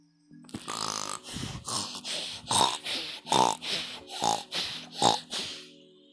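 A video game character snores loudly in repeated grunting, snorting breaths, about six rhythmic pulses, close and alone, fading out at the end.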